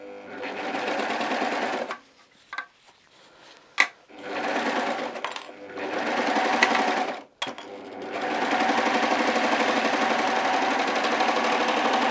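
A sewing machine stitches a pocket bag to a pocket facing in three close, loud runs of rapid whirring, separated by short pauses with a few clicks.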